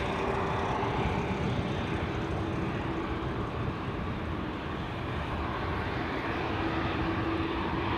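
KLM flight 895, an airliner leaving Amsterdam Schiphol for Shanghai, produces a sustained, fairly distant engine roar with a faint steady whine, which rises slightly toward the end with no voices present.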